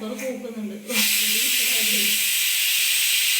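A pressure cooker of green peas lets out a loud, sustained steam whistle that cuts in sharply and hisses on steadily, following a brief moment of voiced sound and clatter at the start.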